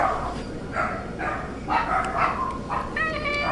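Dogs barking and yipping in short bursts, fairly close, with a whimper-like higher note near the end and no talk over them.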